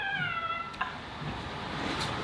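A person imitates a cat's meow with a short drawn-out mewing cry near the start, followed by faint shuffling and background noise.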